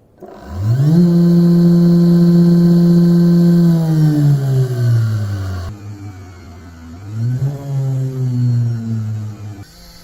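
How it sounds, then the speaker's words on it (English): A 58 watt CNC DC motor spins up to a loud, high-pitched whine, holds steady at high speed, then drops in pitch and wavers as it slows and revs again. "Let's test this CNC motor, 58 watts. Very high speed."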